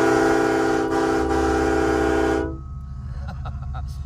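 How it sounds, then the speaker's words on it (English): A vehicle horn blares loud and steady for about two and a half seconds, then cuts off, leaving a quieter background hum, heard while waiting out a snowstorm at Big Bear Lake, California. "he wanted me to honk the horn when I was about 1/2 mile away"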